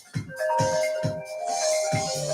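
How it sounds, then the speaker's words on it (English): A mobile phone ringing indoors during an upper-body workout, a repeating electronic ringtone with steady sustained tones under regular rhythmic thuds, fairly close and loud, with no speech. "Sorry, my phone is ringing."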